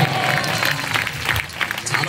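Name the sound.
audience applause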